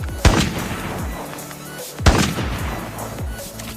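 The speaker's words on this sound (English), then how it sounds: "it allows you to use your sniper in burst mode" Two loud, booming shots from a sniper rifle firing in burst mode in Call of Duty Mobile, spaced about two seconds apart, each followed by a short echoing tail and mechanical rattle.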